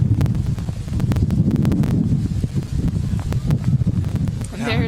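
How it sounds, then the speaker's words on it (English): Strong gusty wind buffets the microphone outdoors during sideways rain at an aircraft first-flight event, a loud rumbling roar with rustling bursts, while a voice talks over it. "very windy, and now the rain is starting to come down"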